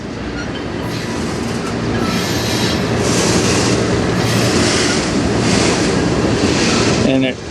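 A CN freight train rolls past in Sarnia, Ontario, with a loud continuous rumble of wagons and wheels on the rails, steady and close throughout, and a faint squeal near the end.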